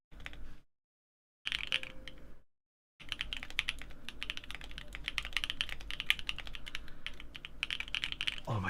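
Fast, crisp typing on an NK65 mechanical keyboard fitted with new switches, bright poppy clacks coming in dense bursts broken by short silent gaps.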